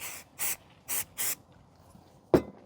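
Accelerator sprays onto 2P-10 CA glue on a custom wood handrail in three short, crisp aerosol bursts, followed after a pause by a single sharp knock.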